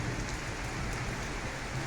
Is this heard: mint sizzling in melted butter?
no